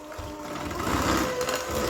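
A battery powered hand mixer whirs steadily as it beats sugar and cream cheese together, a close, even motor hum with no talk over it.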